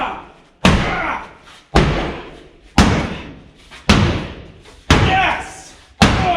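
A big hammer crashes into the body of a Ford Mustang about six times at a steady pace, each blow a loud, close metallic slam that rings and crunches briefly before the next, with a voice shouting amid the impacts.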